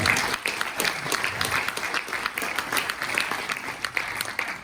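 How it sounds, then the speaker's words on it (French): At an interactive health-awards conference, the audience applauds a musician named Christophe with lively, close clapping that swells and dips in waves. "On peut l'applaudir, Christophe."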